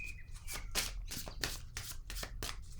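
Oracle cards shuffled by hand to draw one, a steady run of riffling, papery flutters in quick bursts, close and fairly quiet, with no talking over them.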